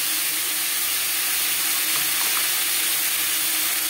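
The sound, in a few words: tomato paste sizzling in pan with potatoes for fish curry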